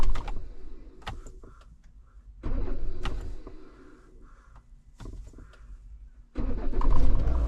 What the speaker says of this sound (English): will my car start? Oh, nope. Problem with starter.